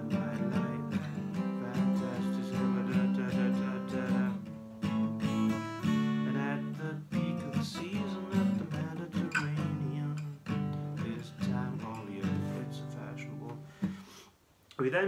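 Strummed acoustic guitar plays a song, with dense, continuous chords under a singing voice, loud and close and steady throughout, trailing off briefly near the end.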